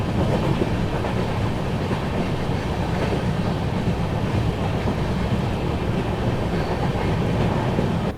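Continuous rumble and rattling of the 14218 Unchahar Express heard from inside a first AC coach, a dense, steady rolling roar with faint rhythmic clatter from the wheels, no voices.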